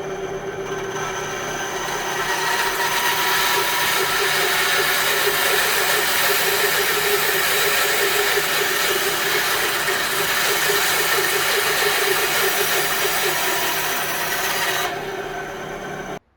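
A handmade wooden duck call being drilled out, a steady grinding, rasping whir that runs continuously for about fifteen seconds at close range before cutting off.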